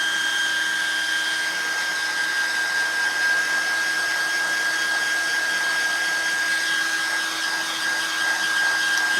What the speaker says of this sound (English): go over it with the heat gun